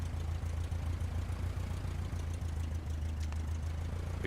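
Steady low engine drone of the default aircraft idling in Microsoft Flight Simulator 2020, a constant close hum with a brief faint high whine near the end and no talking.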